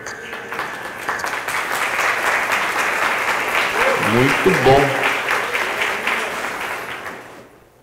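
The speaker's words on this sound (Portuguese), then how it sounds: "Bater palma no frio, a turma não põe nem força na mão" Church congregation applauding during a Friday worship service, a steady dense wash of clapping that fills most of the clip and fades out at the end, with a voice speaking briefly over it.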